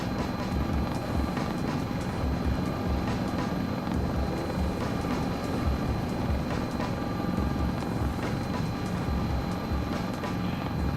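The Sikorsky S-76C helicopter in Microsoft Flight Simulator 2024 gives off a steady, dense rotor and turbine drone throughout, with no pauses.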